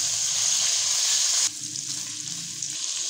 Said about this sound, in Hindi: अब मैं इसके अंदर लहसुन अदरक का पेस्ट ऐड कर दूँगी और इसके साथ अच्छी तरह से फ्राई कर लेंगे चिकन को